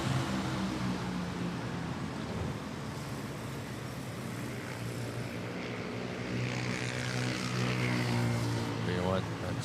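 Philippine Airlines Airbus A321 arriving at Manila airport on approach from Osaka, a steady engine drone and broad rumble holding throughout, with people talking over it.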